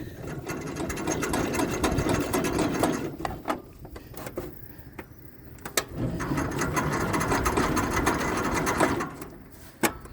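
The starter of a Cub 154 tractor engine cranks it over repeatedly in two long bursts with a rapid rhythmic chugging, the engine struggling and not catching, with clicks and clanks in the pauses.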